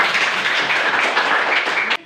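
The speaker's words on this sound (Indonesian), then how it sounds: "Tepuk tangan." A classroom of students claps together for a couple of seconds, a dense, even burst of applause that cuts off abruptly near the end.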